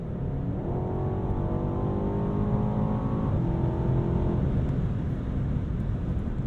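A 2022 Alpina B8 Gran Coupe accelerates hard, heard from inside the cabin: a smooth engine note climbs steadily in pitch for a few seconds, then eases off under a constant rush of road and wind noise.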